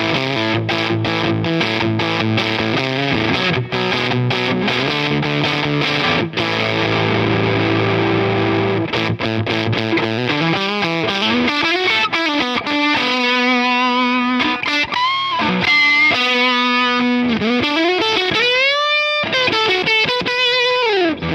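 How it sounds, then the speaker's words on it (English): Electric guitar through a Fender Hammertone Fuzz pedal, with the internal trim pot turned up, playing loud sustained fuzzy riffs and bending notes with a dense saturated tone, continuous and alone. "That's brought back some of the life necessary to really get that fuzz pedal to cut through."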